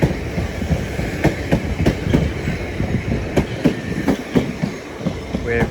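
A Class 377 electric train arrives at East Croydon station, its wheels clattering rhythmically over rail joints as carriages roll past nearby, with a faint squeal near the end.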